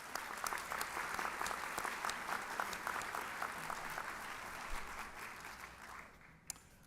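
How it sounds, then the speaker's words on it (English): An audience at a nurse pinning ceremony applauds, a sustained dense wash of clapping from many hands that holds steady before tapering off near the end, with a last stray clap. "Let's please applaud for our past president,"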